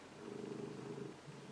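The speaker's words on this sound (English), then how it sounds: "So by the way, here's my cat." A pet cat purring steadily and close, a soft continuous rumble with a slight rhythmic pulse, heard alone.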